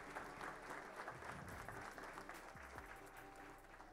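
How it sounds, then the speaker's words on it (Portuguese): Applause from the audience at a formal legislative ceremony awarding a municipal merit medal, steady and moderately distant across the whole stretch, with faint low rumbling underneath. "Mais uma salva de palmas."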